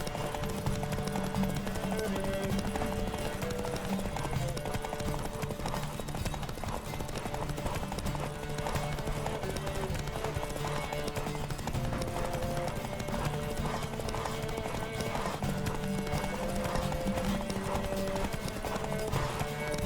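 Steady clip-clop of horse hooves at a fast gallop in The Witcher 3: Wild Hunt, loud and continuous, with a musical score playing underneath throughout.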